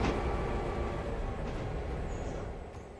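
The Red Dragon Express model train runs along its track with a steady rumbling clatter of wheels, close and continuous, fading slightly toward the end.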